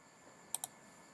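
Two quick computer mouse clicks in close succession, sharp and fairly close, against a quiet background hum while using PLC programming software.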